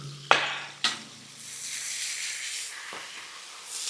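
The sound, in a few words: mint leaves added to pan, frying for mint rice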